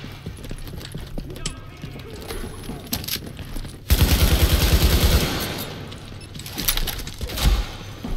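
Bursts of gunfire and sniper shots in The Division, scattered cracks early on, then a loud, dense barrage in the middle and more shots near the end, with mechanical clatter in between.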